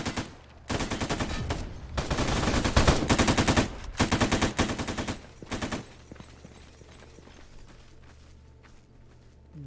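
Rapid bursts of gunfire in S.T.A.L.K.E.R. GAMMA, dense loud volleys of shots over roughly five seconds with short gaps, then trailing off into a quiet low rumble of ambient noise.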